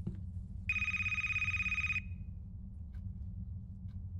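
A telephone rings in the horror video game A Place, Forbidden, one steady electronic ring lasting over a second against a low ambient game drone, then quiet hum with faint clicks.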